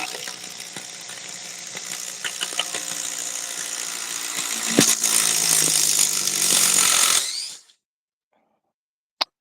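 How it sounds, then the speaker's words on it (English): A cordless impact driver hammers a screw into wood for about seven seconds, the sound loud and steady with a rattling, rising pitch. It cuts off abruptly, and a single faint click follows. "Because I don't think DeWalt makes a good impact driver."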